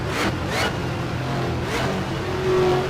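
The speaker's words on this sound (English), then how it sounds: "you can hear from the onboard that he's steadily in the throttle. Then listen as he gets on the brakes." Onboard race car engine during the 24 Hours of Sebring, a loud steady roar under throttle that rises and falls with surges, then drops as the driver brakes, with a rising whine toward the end.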